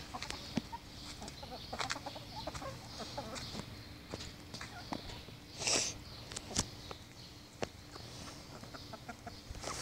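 Backyard chickens cluck and peck around a coop, with soft scattered clucks throughout and a louder burst of squawking near the middle, close by with faint outdoor background.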